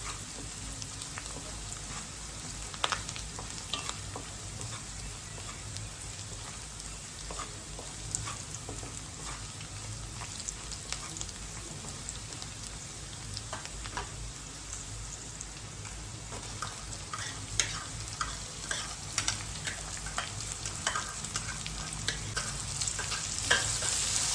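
Garlic frying in a pan for an Agri-style val bean bhaji, a steady crackling sizzle with occasional sharper pops and stirring scrapes, continuous and close throughout.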